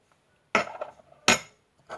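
A child's Frozen-themed bowl and spoon are handled, giving two sharp clinks about a second apart and a softer third at the end, close and clear with no talk.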